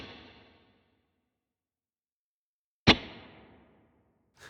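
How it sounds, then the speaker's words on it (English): A guitar through a subtle hall reverb on a Fractal Axe-FX III, with a sharp struck chord decaying into a soft, fading tail, followed by silence before the next hit begins, heard alone. "If you like a hall, you can do a subtle hall."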